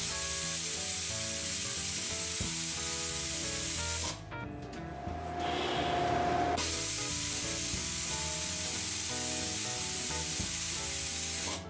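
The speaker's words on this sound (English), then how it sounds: "Now I can open the drain valve with my phone." Compressor drain valve opening, blasting out air and water: a loud, broad hissing spray bursts in and lasts a few seconds over steady workshop noise.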